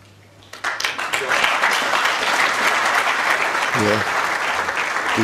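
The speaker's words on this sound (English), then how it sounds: "deserved applause, good safety that" An audience at a snooker match applauds a good safety shot, the clapping starting abruptly after a quiet moment and holding steady and fairly loud, with a commentator's voice briefly heard beneath it.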